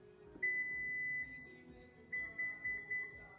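Several electronic beeps from a Lexus tailgate: one long tone, then a second longer one, followed by a quick series of short beeps, in a quiet setting.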